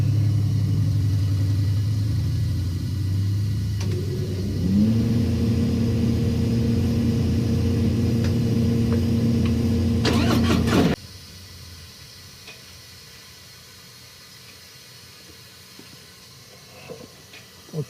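A Harley-Davidson Milwaukee-Eight 107 engine running on a dyno with only mufflers fitted. It drones loudly and steadily, climbs in pitch partway through, holds a high rev, then cuts off abruptly and leaves near quiet.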